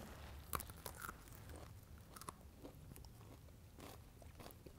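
Close, faint crunching and chewing of a crispy snack with a slightly bitter, nutty taste, irregular crisp bites and mastication over a quiet background.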